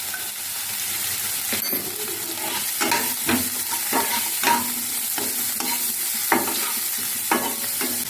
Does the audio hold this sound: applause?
no